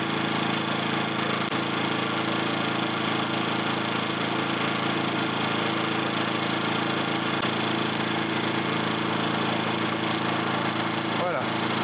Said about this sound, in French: Je vais l'allumer, la faire tourner un petit coup au ralenti.